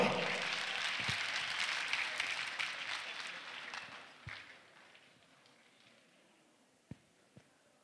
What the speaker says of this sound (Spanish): Fuertes palmas para ellos,